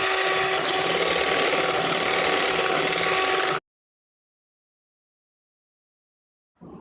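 An electric mixer beats a cup of whipping cream with a steady, close mechanical whir that cuts off abruptly partway through, followed by silence and a brief restart at the end.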